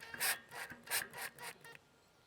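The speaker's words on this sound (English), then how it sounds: "So what I'm doing now is I'm attaching the Vendline" Short, rhythmic scraping and rubbing strokes come as a Vendline clothesline bracket is fitted against a caravan wall, about six close, fairly quiet bursts and then silence, with no voices.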